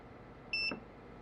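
An RS-PRO RS-14 multimeter's continuity beeper gives a single short, high electronic beep, a clean steady tone lasting a fraction of a second over a quiet background.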